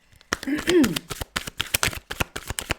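Tarot cards are shuffled rapidly, producing a crisp run of snapping riffles in an uneven rhythm while a voice speaks briefly over them.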